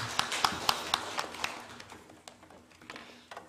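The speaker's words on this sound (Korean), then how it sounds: "하나님께 영광의 박수 올립니다" A church congregation gives a short round of clapping during a Sunday morning service, with sharp scattered claps at first that thin out and fade within a few seconds.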